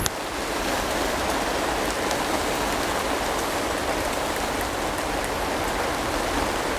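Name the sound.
watering seed trays with water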